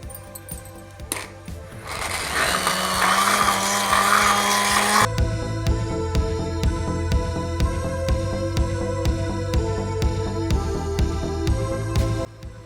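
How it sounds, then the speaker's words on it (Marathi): An electric hand grinder whirs loudly while mixing homemade saffron shrikhand made from chakka, sugar, cream, saffron milk and cardamom powder, running steadily with a pitch change midway and rhythmic clicking pulses. "तर हे ग्राइंडरने मी हलवणार आहे"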